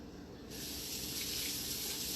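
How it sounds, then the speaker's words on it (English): Apples being washed under a running kitchen tap, a steady rush of water into a sink that swells after a brief quieter start and keeps going, close and alone with no talk. "So I'm going to go wash them quickly, and we're going to come back."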